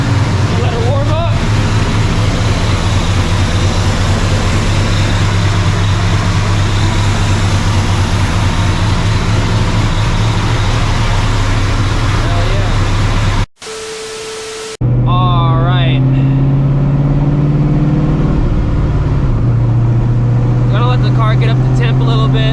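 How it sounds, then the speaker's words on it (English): A supercharged 600hp New Edge Mustang GT idles in a driveway while warming up, giving a loud, steady, low droning rumble that cuts out briefly and then resumes, with a voice speaking over it later. "I'll let it idle in the driveway for like a couple minutes"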